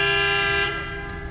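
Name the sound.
coach horns honking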